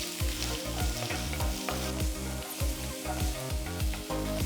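Chopped garlic and ginger fry in a few teaspoons of hot oil in a wok, giving a loud, continuous close sizzle broken by regular scraping strokes of stirring.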